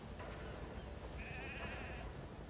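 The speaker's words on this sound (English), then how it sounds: "we see our friends, the sheep and Jackie, have made it back to Mother Base safely" A sheep bleats in Metal Gear Solid V: The Phantom Pain, one wavering bleat rising over a soft, steady game-world background.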